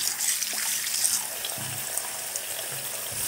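Tap water runs into a bathroom sink whose drain is clogged, a steady splashing trickle with faint gurgles, close by and alone without speech.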